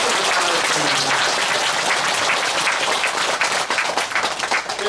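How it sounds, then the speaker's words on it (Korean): Warm applause for a temple choir at a Buddha's Birthday service at Gilsangsa, many hands clapping in a loud, dense, continuous roar that thins slightly toward the end. "박수 부탁드립니다"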